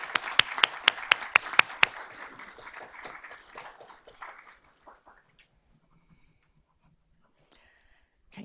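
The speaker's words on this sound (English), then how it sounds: "So let's give them another round of applause." Applause breaks out at a board of trustees meeting, a few sharp claps standing out at the start before the clapping thins and dies away after about five seconds, leaving near silence.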